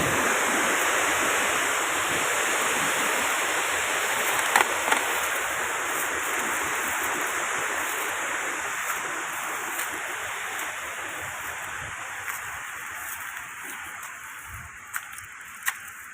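Water pours through the open spillway gates of the Non Khwao dam, a dense, steady roaring rush like a waterfall that fills the whole stretch, with light wind buffeting the microphone.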